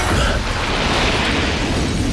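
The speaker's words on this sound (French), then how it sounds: "explosion du sas" An airlock explosion from the film Sunshine roars as a dense, sustained, loud rumbling blast with no pauses, spread evenly across the whole stretch.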